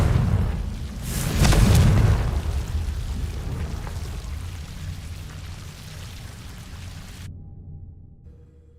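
A Confringo blasting curse explodes in the Hogwarts Legacy video game, a loud booming burst peaking early and rumbling into a long fading roar before cutting to near silence.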